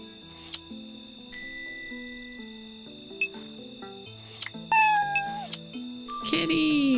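Cat meows from a cartoon-style video game, short tonal calls popping up over a plinking melodic music loop, ending in a brighter burst of sound effects.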